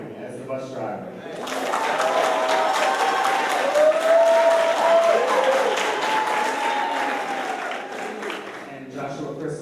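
An audience at a stage production applauds cast members, with steady clapping that builds quickly and holds loud for several seconds before tapering off, while a presenter speaks over the opening and the end.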